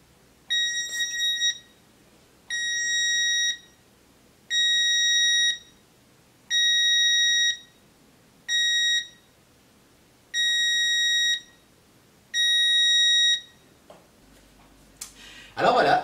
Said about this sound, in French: va se mettre à faire un bip assez fort qui va vous permettre de retrouver facilement votre télécommande